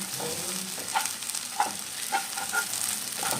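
Okra stir fry (lady's finger thoran) is stirred in a pan, giving a soft frying sizzle with several spoon scrapes and taps at a steady pace, close and fairly quiet.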